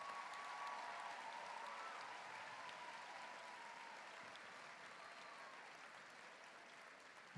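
Steady audience applause at a school house music competition, a dense continuous patter of many hands that stays even for several seconds and tapers only slightly toward the end, with no talking over it.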